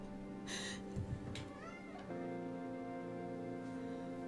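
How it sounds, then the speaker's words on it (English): A cat gives a few short, plaintive meows at low volume against a steady humming background. "I'm sorry that my cat is so sad right now."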